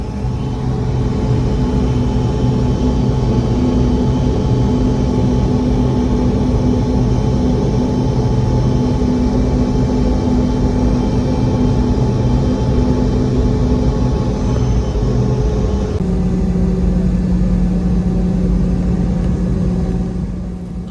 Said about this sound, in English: The roar of the engines is so loud when you're sitting at the back of the plane.